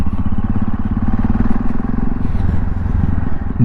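Yamaha Tenere motorcycle engine running steadily up close as the bike slides on a slippery winter road, a continuous low rumble with light clatter throughout.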